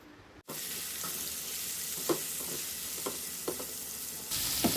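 Fresh prawns and okra start frying in a pan after a short quiet moment, then sizzle steadily while a spoon stirs with several scraping knocks. The sizzle swells louder near the end, and no one talks.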